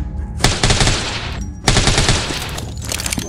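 Sustained automatic gunfire in the zombie video game Deathly Stillness comes as two loud, dense bursts of rapid shots separated by a short gap.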